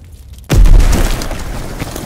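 A grenade blasts in a WW2 shooter battle, a sudden loud deep boom after a brief quiet lead-in, then a rumbling tail that fades slowly.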